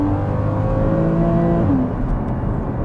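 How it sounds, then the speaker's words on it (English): A 2016 Porsche Cayman 981's flat-six engine revs with a smooth, rich tone, holding steady and then rising in pitch briefly, loud and close throughout. "The note from the engine is top notch."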